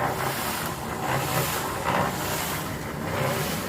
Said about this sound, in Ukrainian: Ну і зараз працює бетономішалка.